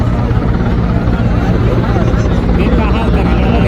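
Air Force helicopter flying overhead at an event site in Deoghar, a loud continuous rotor roar that fills the whole stretch, with people talking underneath.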